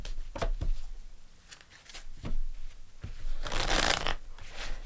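Tarot cards are shuffled up close in a run of quick riffles and soft slaps, ending in a longer, brighter flurry of shuffling.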